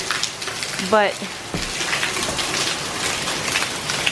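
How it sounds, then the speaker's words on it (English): Rain falling outside a house, a steady hiss of drops on surfaces, heard while someone speaks briefly. "it's a little bit rainy outside today"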